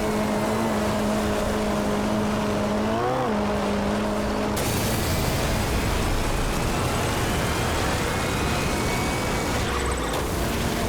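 A racing engine in MotorStorm drones loudly and steadily, its revving pitch bending and rising, then giving way to a harsher, noisier roar of off-road racing with no talking.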